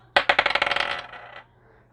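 Dice are rolled onto a hard surface, giving a quick cluster of sharp clacking bounces that speed up and fade into a short rattle, close and clear with no talk.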